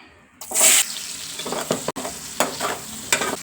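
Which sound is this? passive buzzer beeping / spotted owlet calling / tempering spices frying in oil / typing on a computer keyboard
tempering spices frying in oil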